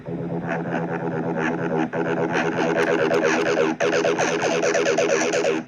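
A dense, buzzy Roland TB synthesizer line pulses in fast repeating notes with heavy effects, continuous and loud, briefly dropping out twice.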